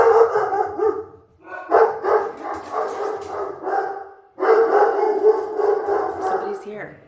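Several dogs bark in repeated bursts at a house, loud and close, with a pause near the middle before a long run of barking resumes.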